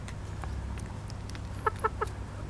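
Chickens cluck softly close by while eating fig peels, with a few sharper clucks near the end over a low steady background hum.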